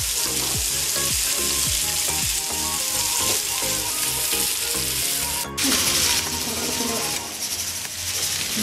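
Ingredients sizzle and fry in hot oil while making Kerala style chicken biryani, a dense, steady crackling hiss broken by the clatter of stirring.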